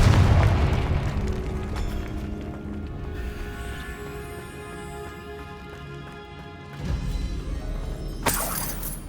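A fiery Confringo spell explosion in Hogwarts Legacy, a loud shattering boom up front that decays into a lingering rumble, with a second sharp crack near the end.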